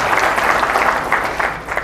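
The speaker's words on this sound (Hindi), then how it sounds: "दोनों के लिए बहुत जबरदस्त तालियां बजा रहे हैं" Applause from an audience at an MBA session in Aligarh, a dense steady patter of many hands clapping close by for the whole stretch, with no talking over it.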